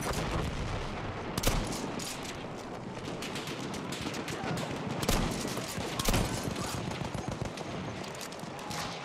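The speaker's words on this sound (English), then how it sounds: "that's mortars coming down in on us" Mortar shells crash down during a Battlefield 1 operations match, a dense, continuous barrage of loud explosions and gunfire with heavier blasts standing out near 1.5, 5 and 6 seconds.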